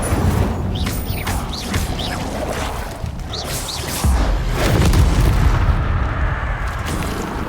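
An Incendio fire spell cast in the wizarding game Hogwarts Legacy, producing a loud, dense roaring whoosh with booming low rumble that swells near the end, alongside sweeping magical tones.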